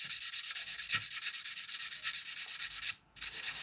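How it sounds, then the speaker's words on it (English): A fine sanding stick rubs over a part of an A-4M model aircraft in quick, steady back-and-forth strokes. The scratching is close but quiet and pauses briefly near the end. "Right, now I'm happy to go into our fine sanding stick."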